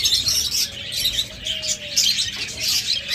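A pair of albino red-eyed budgerigars chirps close by in quick, bright bursts, with other birds faintly in the background.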